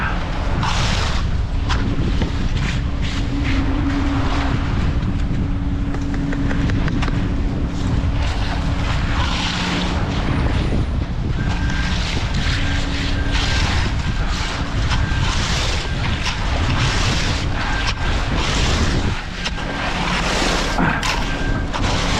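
Strong wind gusts roar steadily across a microphone outdoors at a concrete driveway job site, a loud continuous rumble with a faint low hum underneath and no talking.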